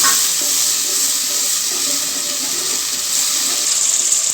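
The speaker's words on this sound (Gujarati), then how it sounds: "જીરું શેકાઈ જાય એટલે આપણે તેમાં ડુંગળી નાખીશું।" Onions and cumin sizzle steadily in hot oil for a green mung bean curry, a constant loud hissing fry with no pauses.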